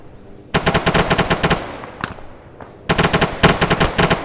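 Automatic weapon fire in the military game Arma 3 during platoon training, two loud sustained bursts of rapid rounds with a single shot between them, close and dominant with no talking.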